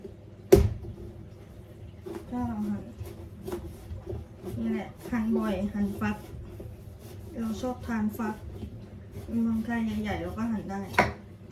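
A knife cuts a large winter melon into rounds, giving sharp thuds and scraping strokes on a board nearby while someone talks over the work.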